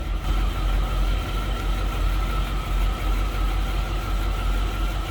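1957 Cadillac Eldorado Biarritz engine running with the hood open, a steady low idle rumble, close and continuous without any voices.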